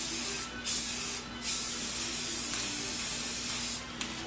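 Matte clear coat from an aerosol can hisses onto a model habitat rock and moss in several short bursts separated by brief pauses, close and fairly loud, with a longer steady spray in the middle.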